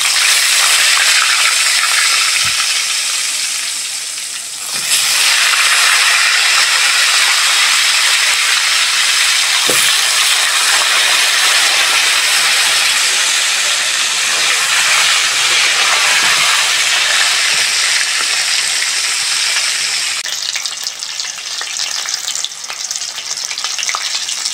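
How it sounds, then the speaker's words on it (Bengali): Whole potatoes deep frying in hot oil make a loud, dense, roaring hiss that fills the whole stretch, steady and close, with a few dips where the bubbling briefly eases before surging again. "ওই তেলের মধ্যে গোটা গোটা আলুগুলো ভেজে নেব।"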